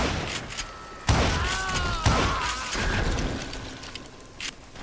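Rifle fire in the Western shooter Call of Juarez: Gunslinger, with a few heavy booming shots about a second apart, each trailing into echoing reverberation.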